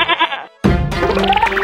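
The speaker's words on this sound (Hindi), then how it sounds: "बकरी बाहर जानी चाहती है" A goat bleats loudly and close by. A wavering call is followed by a short gap, then a second, longer quavering bleat that fills the rest of the moment, with no speech.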